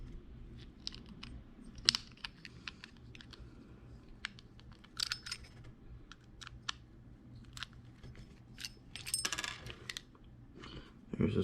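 A long, tight screw is worked out of an AW Custom HX24 pistol, giving scattered faint clicks and small metallic ticks at an irregular pace over a quiet background.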